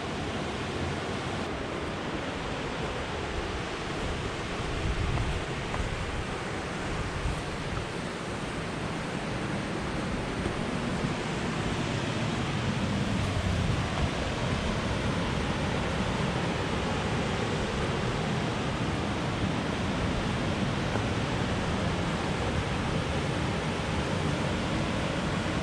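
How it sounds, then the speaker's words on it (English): Wolf Creek Falls near Sandstone, Minnesota, pours into a pool and cascades down the surrounding rocks. The result is a steady, full-bodied roar of rushing water that holds constant throughout, with no voices. "There's just water coming from everywhere. Got the big falls there, but it also cascades around and down."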